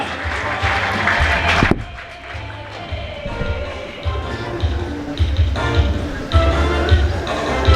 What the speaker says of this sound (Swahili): Weka makofi kwa ajili yake tafadhali.